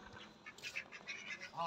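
A pair of pet ducks on a small home farm quack in short, nasal bursts, close but soft, several calls in quick succession.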